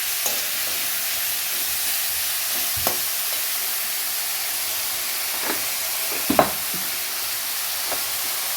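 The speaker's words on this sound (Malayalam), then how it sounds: "ഇപ്പം സവാള ജസ്റ്റ് ഒന്ന് വഴന്നിട്ടുണ്ട്." Onions sautéing in a pan: an even, continuous hiss of frying with a few sparse knocks and scrapes of stirring, steady and fairly loud throughout.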